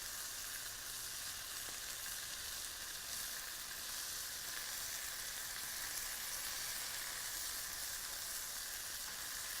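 Salmon spread with basil paste sizzling in a hot skillet, a continuous even hiss of frying that holds steady and fairly loud throughout.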